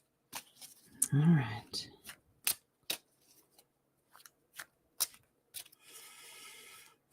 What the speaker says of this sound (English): just so y'all know while I'm shuffling